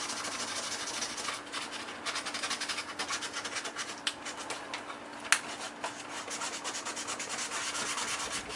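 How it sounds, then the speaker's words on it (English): Fine 320-grit sandpaper rubs over a foam dart gun being prepared for paint, making continuous close scratchy strokes with a few sharper scrapes. "that's where a fine grit sandpaper will have to do the job"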